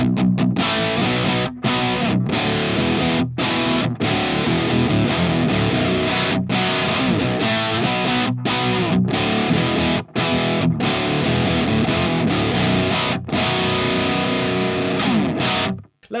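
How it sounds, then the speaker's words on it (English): Electric guitar through an ENGL Powerball II amp on channel 2 with the gain just below halfway, giving a loud, thick, crunchy British-style distorted tone of sustained chords and riffs, broken by brief stops between phrases. "With the gain set just below halfway on channel 2, we're already getting those super crunchy British tones going."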